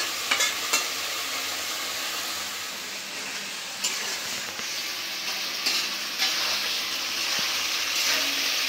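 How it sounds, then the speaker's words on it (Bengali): Meat sizzling and frying in a pan while being stirred, in village-style Bangla cooking; a continuous loud hiss with scraping stirs breaking through at intervals, no talk. "মাংসটা কষাই নিব একটু।"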